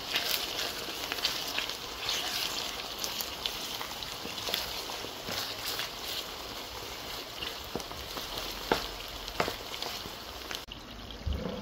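About ten to twelve pre-washed dried chapa shutki fish go into a hot pan, setting off a steady crackling sizzle with scattered sharp pops and spits close by.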